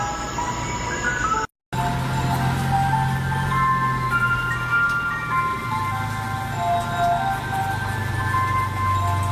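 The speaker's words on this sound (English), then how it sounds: "should have no ice cream truck riding around still trying to sell ice cream to kids" Ice cream truck playing its tinkly melodic jingle loudly over a low engine rumble, close and continuous, with a brief dropout near the start and no speech.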